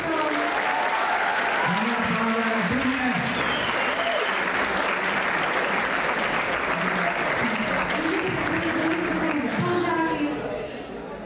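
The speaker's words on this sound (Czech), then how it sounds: "ještě jednou poprosím o toho potlesk" Loud, sustained audience applause fills a TV show stage event, dense clapping with cheering and a few whoops on top, holding steady before fading near the end.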